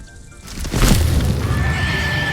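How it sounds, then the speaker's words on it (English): A mandrake screams as it is yanked from its pot in the video game Hogwarts Legacy. A sudden, loud, shrill shriek bursts out and then holds as a sustained wailing cry. "Powerful scream, isn't it?"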